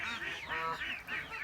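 Brahma chickens in a coop, one gold partridge black and one gold partridge blue, give a few short, nasal, honking squawks in quick succession, close by.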